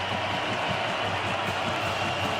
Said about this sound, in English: Crowd as loud as they've been all day